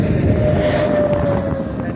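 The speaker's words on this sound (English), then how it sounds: "So we have this huge coal train coming along" A huge coal train passes nearby in a steady, loud rumble, with a faint sustained squeal above the rolling noise.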